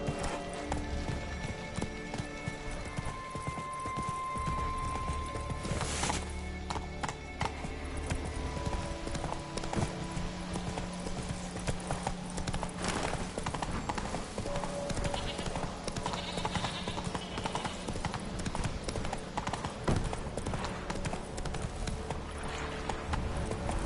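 Horse named Roach running with steady clip-clopping hooves throughout, over music and ambient sound, with a rider urging it on.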